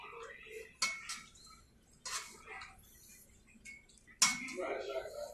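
Miso being stirred into soup in a metal pot, a few sharp utensil clinks and scrapes against the pot amid quieter liquid swishing, faint and close.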